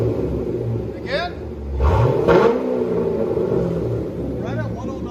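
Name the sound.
2005 Chevy Corvette 6.0L V8 straight-pipe exhaust revving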